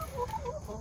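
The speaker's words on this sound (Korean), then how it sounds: "아이고, 우리 닭들이 내려왔네" Chickens cluck close by in a short burst of soft, overlapping calls, with a low rumble of background noise underneath.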